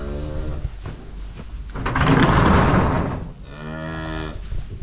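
A cow moos loudly and close at a calving, two long drawn-out lowing calls separated by a rougher, breathy bellow in between.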